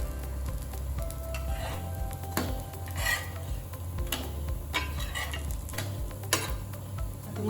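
A moong dal pancake fries in a pan and sizzles steadily, with scattered scraping and stirring clicks from a utensil against the pan, all close and moderately loud with no talking.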